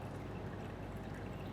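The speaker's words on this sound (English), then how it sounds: "So carefully just pour in the water," Water is poured steadily into a Hario Mizudashi cold brew coffee maker over dry coffee grounds, a soft, even, continuous pouring hiss with no break and no talk.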